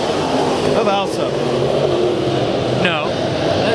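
Race cars at Bakersfield Speedway, engines roaring and revving as they pass, with a continuous mechanical drone and rising pitch sweeps, while commentators talk over the racing.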